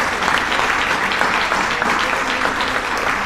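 Steady applause fills a formal ceremony honouring an emeritus lawyer, dense and continuous clapping from a large audience with no voices over it.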